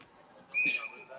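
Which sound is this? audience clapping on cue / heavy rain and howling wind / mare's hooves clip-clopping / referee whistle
referee whistle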